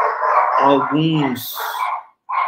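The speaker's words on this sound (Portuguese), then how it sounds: "me desculpem pelo meu cachorro e pelo cachorro da casa do vizinho." Dogs bark in a home, the speaker's own dog and a neighbor's, with sharp yips mixed in under a woman's ongoing speech, close and fairly loud.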